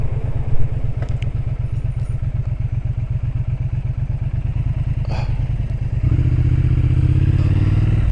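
A 2025 Triumph Speed Twin RS1200 motorcycle rides along with a loud, close, rapid engine pulse, and the throttle opens near the end into a fuller, deeper roar.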